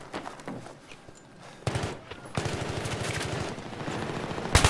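Automatic rifle fire rattles in rapid, rhythmic bursts during Battlefield 3 gameplay, starting sparse and quieter, then building into sustained close-range shooting that ends in a loud final volley.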